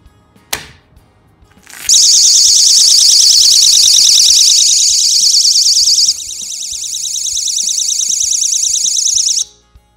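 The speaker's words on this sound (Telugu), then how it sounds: "అదే అలారం మోడ్ పెడితే కంటిన్యూషన్గా బీప్ సౌండ్ వస్తుంది." A GE door sensor buzzer alarm set to alarm mode beeps continuously in a flat, a loud, rapidly pulsing high electronic tone running for about seven seconds after a brief click, with faint background sounds.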